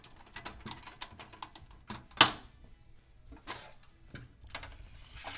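A stainless steel drywall banjo taper being handled and its lid snapped shut, a run of close metallic clicks and taps with one sharp clack in the middle.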